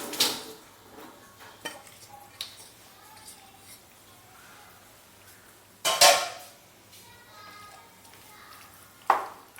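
Chicken pasta being mixed in a large bowl at home, with soft scraping and stirring punctuated by a few sharp utensil clinks against the dish, including a loud clack near the end.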